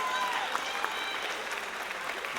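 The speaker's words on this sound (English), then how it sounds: "Give them one more round of applause for Outstanding Symphonic Band Member." Audience applause at a high school band spring concert, a steady wash of many hands clapping that fills the hall evenly and continuously, fairly distant and moderate in level.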